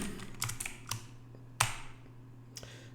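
Typing on a computer keyboard at a Linux machine, a few soft, scattered key clicks and taps close by over a faint steady hum, with one sharper keystroke midway.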